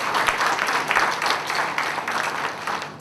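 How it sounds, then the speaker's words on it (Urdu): Audience at a mushaira poetry gathering applauds loudly to welcome a poet, a dense, steady wash of clapping throughout with no speech over it. "زوردار تالیوں سے استقبال کریں۔"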